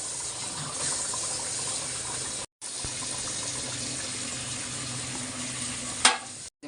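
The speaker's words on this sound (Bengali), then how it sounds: "এখন আরেকটু জলের পানি দিব" Hilsa fish curry sizzles loudly and steadily in a pan as a little water is added, a continuous close hiss with a brief break and a sharp clatter near the end.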